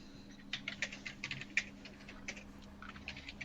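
Rapid, uneven typing on a computer keyboard, a run of light clicks with brief pauses, heard close against a steady low hum in a quiet room.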